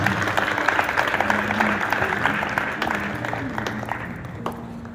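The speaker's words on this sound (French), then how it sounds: "Est-ce qu'on peut acclamer le Seigneur pour sa vie?" A church congregation at a French-speaking youth service claps and cheers in praise of the Lord, sustained applause mixed with crowd voices, steady and fairly close before slowly easing off toward the end.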